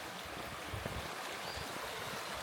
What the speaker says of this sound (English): Right now we got a nice little creek off to our right here. And you can hear that water